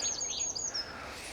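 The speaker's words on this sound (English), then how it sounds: "you can hear the birds singing" Thin high bird chirps and short trills sound briefly at a moderate distance over quiet outdoor background noise beside a canal.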